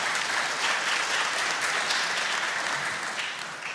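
An audience claps steadily after a joke at a talk on urban planning and cities, a dense wash of applause lasting a few seconds and thinning slightly at the end, with no voices over it.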